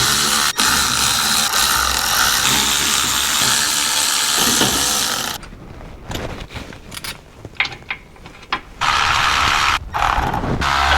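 Loosening 8 mm bolts on the transfer case of a Ford Ranger, with repeated close ratchet and tool clicks and metallic hissy mechanical noise, steady at first and then breaking into choppy bursts of ratcheting. No one speaks.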